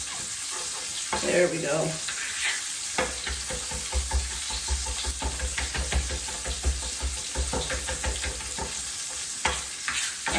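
Garlic sizzling in a pan while being stirred, a steady close frying hiss broken by scraping utensil strokes, with a brief spoken remark near the start.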